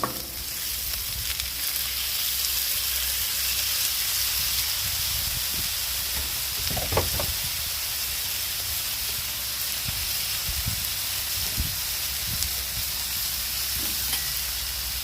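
Green beans sizzling in oil on a Blackstone griddle, a steady close hiss with a few clatters from stirring.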